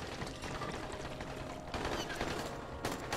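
Enemy gunfire rattles continuously in the video game Dying Light, a dense, steady stream of shots that swells louder partway through.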